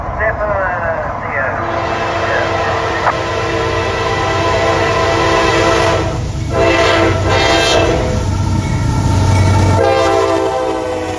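A Norfolk Southern freight train led by a single AC44C6M locomotive, hauling intermodal cars and auto racks, rumbles loudly and steadily close by as its horn sounds repeatedly over the roar.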